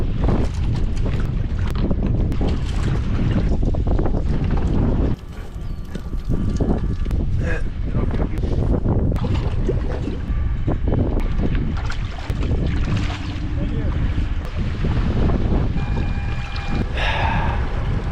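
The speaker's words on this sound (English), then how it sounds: "This wind is brutal, man." Strong southwest wind blows across open water, a loud continuous roar with heavy buffeting against the microphone, broken by a brief dip and then gusting on, with faint water slaps and no talk.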